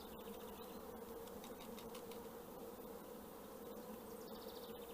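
A steady, dense buzzing of many honey bees during a queen release, close and continuous, with small rustles mixed in.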